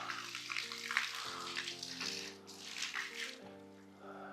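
Water gushes steadily from a hose or pipe into a heated swimming pool under construction in the UK, a continuous close splashing rush with no talk over it.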